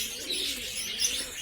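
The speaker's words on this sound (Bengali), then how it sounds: "যে কবুতর এই যে দেখতেছেন" Domestic pigeons in a home loft coo softly and steadily, a close, low murmuring with light chirps and no voices over it.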